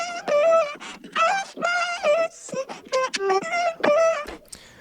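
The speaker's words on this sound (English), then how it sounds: "And it sounds like this with a formant shifting." Chopped vocal processed through a formant-shifting plugin, built as a layer for a lead vocal in a clean yet distorted style: short pitched vocal syllables in a choppy rhythmic pattern, close and loud, alone.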